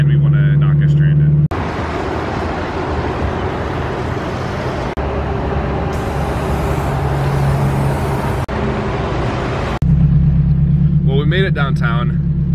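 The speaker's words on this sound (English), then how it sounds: "I've driven this car a lot lower than it is right now, but Bo's behind the wheel." A lowered Honda car drives along with a steady, loud road rumble and engine drone throughout, and brief speech-like sounds at the start and end.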